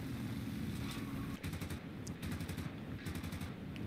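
Cannons and .50-caliber machine guns on a Reggiane Re.2005 fighter fire in a flight video game, several rapid bursts cutting through a constant engine drone.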